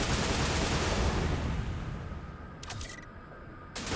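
A heavy 120 mm cluster munition fired from an AC130 gunship in the sci-fi video game Drone Sector: a loud, dense rumbling barrage of explosions that slowly decays, followed by a few sharp later cracks.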